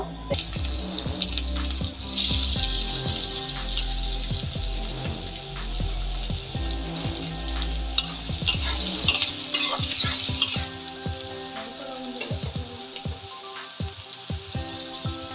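Onions and dried loitta fish sizzle in hot oil in a kadai while a utensil stirs and scrapes the pan in repeated strokes, the frying loud and close before easing off.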